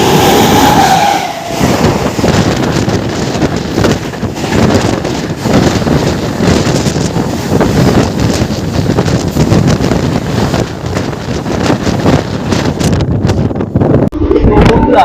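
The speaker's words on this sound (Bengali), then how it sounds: "চলে আসছে হাওড়া থেকে জবলপুর শক্তিপুঞ্জ এক্সপ্রেস।" Howrah–Jabalpur Shaktipunj Express (11448) arriving, a loud continuous broadband rumble of the passing train mixed with heavy wind buffeting on the microphone, steady for most of the stretch before easing near the end.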